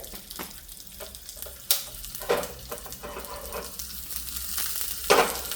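Mustard and fennel seeds sizzle in hot oil, a soft continuous frying crackle broken by a few sharp pops and spits, close by and without talk.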